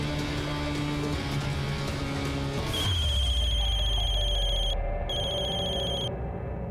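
A telephone rings with a steady electronic trill in repeated bursts, loud and close, after some background music cuts out.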